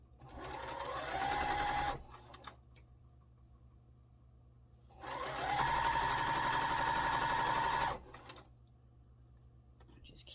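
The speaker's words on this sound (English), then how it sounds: "So we're just going to sew that on." A sewing machine stitching a quilt block strip runs in two steady whirring bursts of about two to three seconds each, close and fairly loud, with quiet pauses between them.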